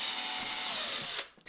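Drill bit boring into a resinous wooden board while making beehive nucleus blanks: a loud, steady, high motor whine that drops away abruptly just before the end.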